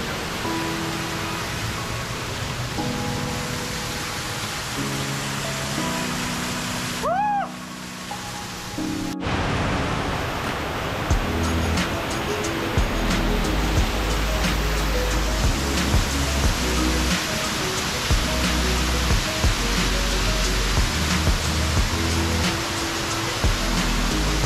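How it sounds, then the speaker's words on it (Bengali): Waterfall near the end of the Madhukhaiya trail in monsoon season, a steady broad rushing roar of falling water, continuous and fairly close, with a brief dip and a faint whistle-like tone partway through. "এই ঝর্ণাটা হচ্ছে যে মধুহিয়া ট্রেলের একদম শেষের দিকের একটা ঝর্ণা।"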